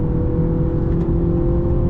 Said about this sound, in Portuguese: no Sport eu acho que ele fica um pouquinho mais forte ainda, esse ronco simulado